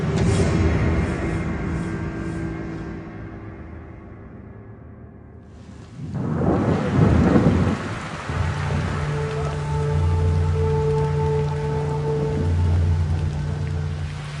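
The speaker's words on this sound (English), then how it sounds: "Rain again." Heavy rain hisses steadily throughout, with a deep roll of thunder swelling in the middle before the downpour carries on. No voices.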